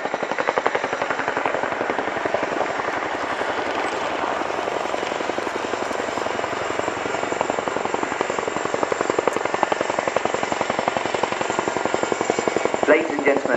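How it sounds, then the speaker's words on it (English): A Boeing Chinook HC 6A twin-rotor helicopter performs at an air show flying display, its heavy rhythmic rotor thumping loud and constant throughout, with a voice speaking over it. "They enable the Chinook and its crew to get airborne"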